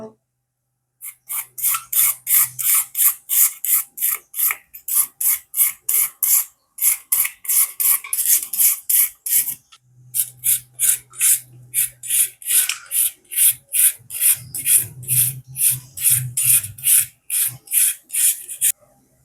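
Repeated quick slicing strokes as a knife cuts vegetables into long, thin strips for a vegetable puttu kothu, coming in steady rhythmic bursts with brief pauses between runs, close and fairly loud, with no talking.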